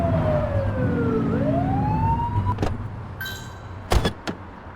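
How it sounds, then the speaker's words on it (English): Police car siren in The Precinct video game, a wailing tone that sweeps down and then back up over engine hum, followed by a few short electronic chirps and sharp bursts, with no speech. "Get behind them and flip the siren to make them pull over."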